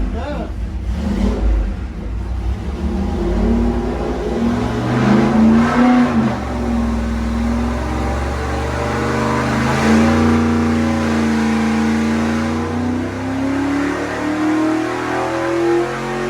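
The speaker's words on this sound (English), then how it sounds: "We're going to fire it up, put a couple more degrees timing in it, and make another pull" A 383 stroker engine on a dyno revs hard through a loud sustained pull, its rising and falling harmonic tone climbing and dropping over several seconds with a steady roar throughout.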